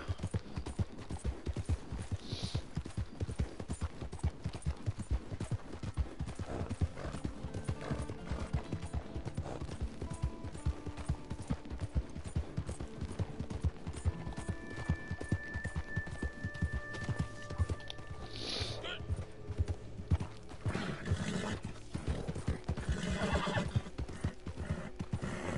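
In Red Dead Redemption 2, horses trot with a rapid, continuous clip-clop of hooves at moderate distance, and several loud neighs and whinnies rise over the galloping rhythm.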